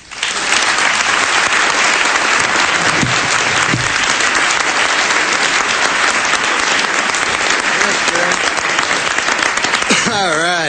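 Audience applause welcoming Norm MacDonald at a formal roast-style dinner attended by the President and First Lady, steady, dense clapping from a large crowd that swells quickly and holds for about ten seconds.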